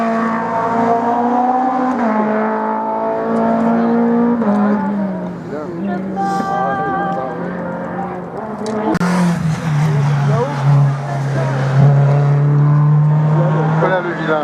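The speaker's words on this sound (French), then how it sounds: "Oh la grosse bagarre avec le volant là pour Gaël Ménil là sur la Clio Cup devant nous." A Renault Clio Cup race car driven hard up a regional hill climb course at Hébécrevon, its engine loud and close, climbing and dropping in pitch through gear changes, with a commentator talking over it.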